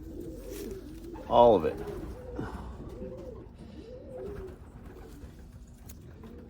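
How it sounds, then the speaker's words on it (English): Tame racing pigeon cooing in soft, repeated rolling coos, close by, under a person talking throughout, with one brief louder flutter or call. "Anytime I walk by her, she starts cooing, dancing,"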